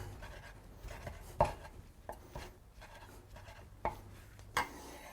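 Prosciutto is diced by rocking a knife back and forth on a cutting board, giving soft, irregular taps with a few sharper knocks, close but quiet, with no talking.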